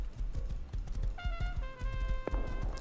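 A horse trotting in the survival video game Rust, with a steady run of hollow clip-clop hoofbeats. Other game sounds play softly underneath.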